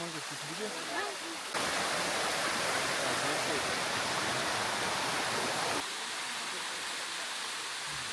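A wild, fast-flowing river in northern Thailand surges up as a loud, dense rush of water that dominates the middle of the clip, with faint voices and quieter surroundings before and after.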